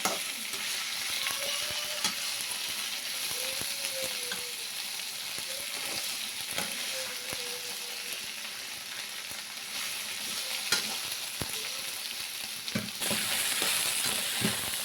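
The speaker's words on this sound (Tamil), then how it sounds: "நல்லா எண்ணெயிலே சுருளில் வேகட்டும்" Sliced okra fries in hot oil in a pan with a steady, close sizzle and occasional light stirring clicks and taps, continuous for the whole stretch with no voices.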